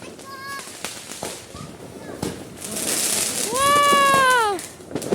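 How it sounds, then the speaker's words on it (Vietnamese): Special military-grade New Year's Eve fireworks go off in a string of sharp cracks and crackling bursts, then a longer sustained roar and whistle near the end, with excited voices talking and exclaiming throughout. "Ôi cái pháo quốc phòng năm nay đẹp nhỉ."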